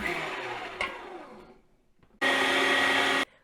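An electric meat grinder mincing fresh nettle for cutlets starts with a loud, steady motor whine that fades out, then switches back on for a second burst of about one second.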